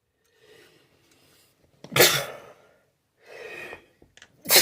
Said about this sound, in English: Sorry guys, I didn't mean to sneeze.